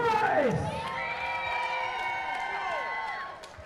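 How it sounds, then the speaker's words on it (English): A wrestling crowd at an Imperial Wrestling Entertainment show cheers and whoops for the challenger Jack Price, a broad, sustained roar with scattered shouts that fades slightly at the end. "Sounds like the crowd favorite out here right now."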